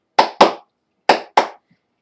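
Cheerleaders' hand claps, two crisp double claps in quick succession separated by a short pause, sharp and close with silence around them.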